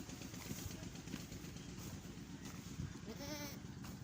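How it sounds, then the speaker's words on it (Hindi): Goats bleating in a Pakistani village yard, a few wavering calls rising over a steady noisy background with faint engine-like rumble, near to mid distance and without speech. "ए मेरे बकरा सारे"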